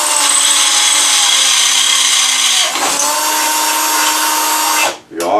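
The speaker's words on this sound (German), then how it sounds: "Hier habe ich jetzt einen 5 mm Bohrer drin" A power drill fitted with a 5 mm bit bores into the trailer hitch on a Rex RS 700, a loud steady high whine that dips briefly and then cuts off near the end.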